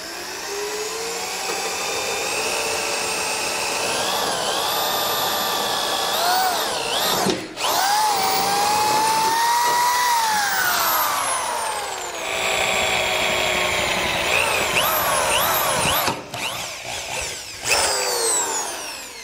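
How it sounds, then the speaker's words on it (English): A power drill with a 3/8 bit whines loudly and continuously, its pitch rising and falling as it bites into the metal frame rail of a 2019 Ford Explorer, with brief pauses between bursts. "I'm going to grab a 3/8 drill bit and get both of those drilled out."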